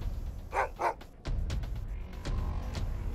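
Dogs bark in the video game Wasteland 3, two distinct close barks in quick succession followed by a few fainter yips over a steady game background.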